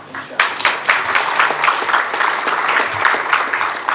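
Audience applause at the grand opening ceremony of a lovebird society in Karachi, loud and dense with many hands clapping close by and sustained throughout, with no speech over it.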